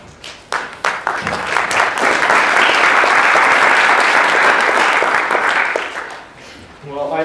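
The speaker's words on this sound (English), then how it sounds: "I assume that applause is for Jeff, as it is rightly meant." An audience at an academic lecture bursts into applause: a few scattered claps, then a loud, dense wave of clapping that holds for several seconds and fades out near the end.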